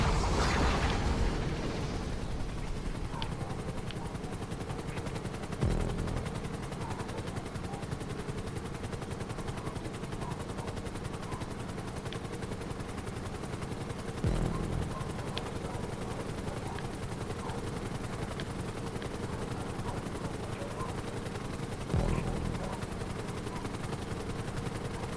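Helicopter in the video game GTA 5 Online, a steady rotor and engine drone running throughout with a few sharp bursts like gunfire or impacts punctuating it, loud and continuous.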